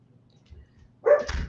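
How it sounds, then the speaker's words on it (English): A dog gives a single close, sharp bark near the end after near silence, followed by a brief rougher yelp. "Okay, that's my dog, sorry."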